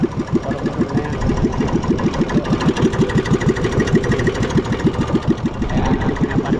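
Small gasoline engine running steadily at a rapid, even idle, its close, regular firing pulses loud and continuous throughout with no talk over it.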